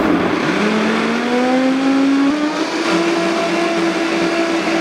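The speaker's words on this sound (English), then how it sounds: "we are going to cover this and blend to a smooth paste" A countertop blender whirs steadily as it purées chickpeas and tahini into a smooth hummus paste, the motor note rising in pitch as the load loosens, loud and continuous throughout.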